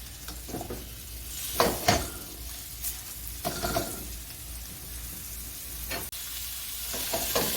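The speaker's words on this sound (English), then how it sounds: "You see we got a nice sizzle there, so we know the oil is hot enough." Chicken sizzles steadily in hot oil, with occasional clinks and stirring knocks from a pan, close by and fairly quiet.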